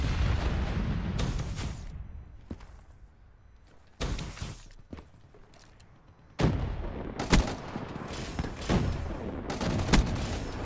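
Repeated gunshots in Call of Duty: Black Ops III, with loud sharp bursts and booming reports that cut in and out over several seconds and end in a final crack, and no voices heard.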